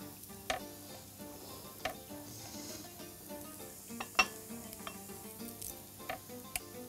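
Onions sizzling as they fry in a pot, a steady soft hiss punctuated by occasional sharp clicks of a spoon against the pan.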